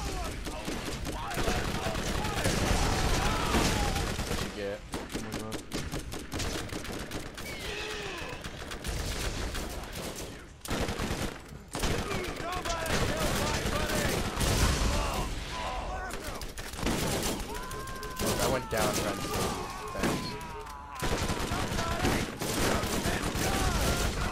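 Dense, near-continuous gunfire from the Borderlands video game, a mix of rapid bursts and single shots, loud and busy throughout with brief lulls, while players talk over it.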